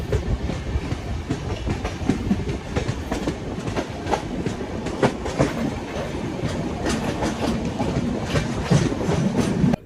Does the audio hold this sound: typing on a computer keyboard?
no